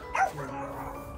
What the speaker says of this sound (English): these dogs be barking at me